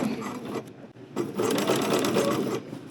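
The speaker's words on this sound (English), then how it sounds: "at the bottom of this, we can stitch straight across if you want to, down here" A sewing machine stitches straight across the hem of a summery caftan, a close, loud whirring run that briefly stops, then starts again and keeps going steadily.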